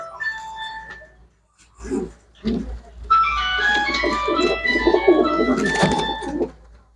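Pigeons cooing among a flock kept for sale: low, throaty coos come in bursts close by, mixed with bright, tonal whistle-like sounds that swell and then fade.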